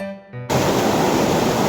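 A strong river current rushing past, a loud, dense broadband roar of flowing water that starts abruptly after a brief moment of quieter tonal noise and continues steadily.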